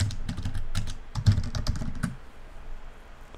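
Fingers typing on a computer keyboard in a quiet room, a close run of quick, uneven clicks for about two seconds that then trails off into near silence, with no speech.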